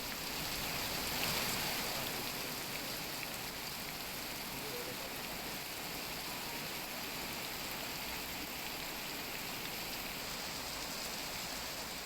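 Heavy monsoon rain pours steadily in Karnataka, flooding road underpasses; a dense, continuous hiss of downpour holds at an even level throughout, with no voices.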